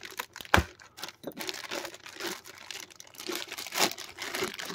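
Close-up crinkling and tearing of plastic wrap and tape while opening the packaging of a Bandai Dragon Ball figure set, with a sharp rip near the start followed by steady rustling and crackling.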